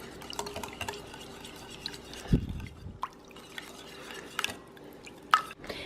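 Wet ingredients for gluten-free pumpkin pancakes are stirred in a bowl, making quiet, close sloshing and soft clinks of a utensil against the bowl, with no talking.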